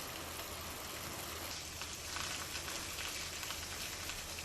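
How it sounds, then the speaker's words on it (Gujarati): Light rain falls steadily over a rural area, a soft continuous patter on surfaces with no voices, even and moderately close throughout. "તાલુકાના ગ્રામ્ય વિસ્તારોમાં ધીમી ધારે વરસાદ શરૂ."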